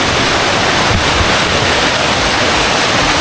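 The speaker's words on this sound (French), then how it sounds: "Je suis toute seule devant une cascade" A waterfall at Nikko, Japan roars loudly and close, a dense unbroken rush of falling water with some wind buffeting the microphone.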